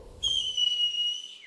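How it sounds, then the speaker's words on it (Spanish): A single sustained whistle without fingers in Canarian silbo style from Gran Canaria: one clear, near, loud tone holding for over a second, with a slight pitch wobble and a falling end. "Silbe como hace usted sin dedo, por favor."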